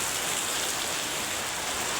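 Heavy rain pours down steadily in a village setting, a dense, even roar of drops on surfaces with no break and no voices.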